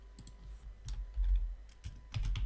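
Code being typed on a computer keyboard, irregular clusters of quick key clicks with short pauses between bursts, close and fairly quiet.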